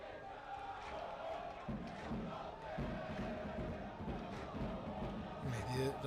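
Stadium crowd of Damash Gilan supporters chanting and cheering their football team, a loud continuous mass of voices with rhythmic bursts, and a commentator speaking over the din.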